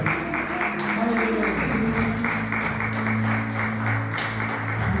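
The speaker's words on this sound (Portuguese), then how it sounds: "E as palmas engrandecem o teu santo nome, Senhor Jesus." A church congregation claps through a closing worship moment, steady rhythmic clapping blended with a sustained tonal musical or vocal backdrop, loud and continuous throughout.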